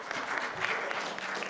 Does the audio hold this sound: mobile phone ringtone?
no